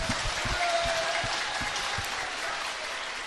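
Steady applause from a room of reporters at a press conference, a dense even patter of many hands clapping throughout, fairly close and loud with a faint voice beneath.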